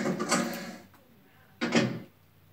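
A door creaks open in the Resident Evil HD video game, a long creaking swing followed after a pause by a second heavier opening sound, both fairly loud with no talking.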